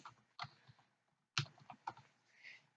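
Short, sharp bursts of keystrokes on a computer keyboard, a few scattered clicks separated by gaps of silence, quiet and close.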